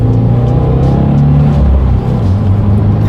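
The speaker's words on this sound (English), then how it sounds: "As I was shifting through the gears there, you can hear the turbo whistle a little bit too." A 2018 Subaru WRX accelerates hard, its engine rumbling loudly up through the revs with brief dips as gears shift, heard up close from inside the car.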